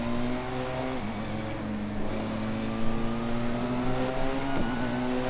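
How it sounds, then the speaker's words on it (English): A Porsche 919 hybrid race car at Spa in Assetto Corsa, its engine note rising and falling in smooth tonal sweeps as it shifts through gears, loud and continuous with a whining hybrid-boost edge. "the hybrid system makes this car awesome, and it has that nice little trick of give me the full power right now"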